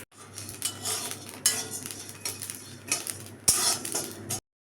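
Salted raw rice is dry-fried in a pan and stirred with a metal utensil, giving repeated scraping and clinking strokes over a soft crackle, close and moderate in level, with no talk.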